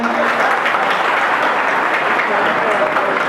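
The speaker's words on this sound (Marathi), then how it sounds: "त्यांच्यासाठी सर्वांनी एकदा जोरदार टाळ्या वाजवायच्या" An audience at an honour ceremony applauds loudly, a dense, steady roar of many hands clapping without letup throughout.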